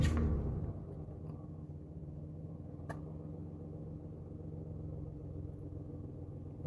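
A car engine cranks and fires with a loud burst, then settles into a steady low idle rumble with no talk; the car has an OBD meter plugged in.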